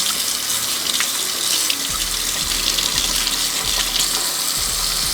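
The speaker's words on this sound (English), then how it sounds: "I'm gonna wash." Running tap water steadily pours over a dirty carbon sponge filter from a Taotronics humidifier being washed in a sink, a loud, close, continuous splash with occasional shifts as the filter is moved under the stream.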